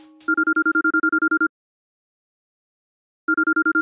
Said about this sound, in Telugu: మా బాస్ ఫోన్ చేస్తున్నాడు రా